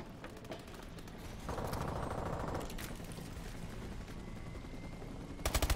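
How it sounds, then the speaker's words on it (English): Automatic shotgun blasts in a first-person shooter game, a fairly quiet run of repeated gunfire under game effects, ending in a louder rapid burst of shots up close. "That fully automatic shotgun will shit on me every time for some reason."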